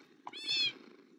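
A cat in the Minecraft video game gives a single short meow, fairly faint and alone.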